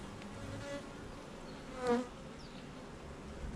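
Worker honey bees drone softly around an open, docile hive, a faint steady buzz with one bee passing close and louder for a moment before fading back into the low hum.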